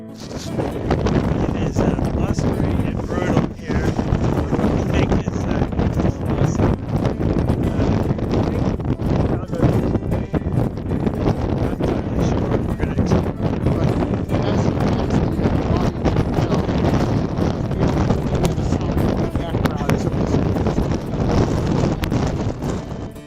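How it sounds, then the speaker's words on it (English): Strong wind buffets the microphone on a cold mountain summit with constant roaring gusts and rumble throughout, loud and close. "It's cold and windy"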